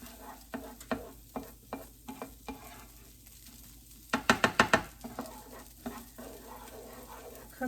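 Risotto rice for a shrimp and lobster dish sizzling in a pan while a spoon scrapes and knocks through it in regular strokes, with a quick burst of rapid clacks midway. The sound is close and moderately quiet.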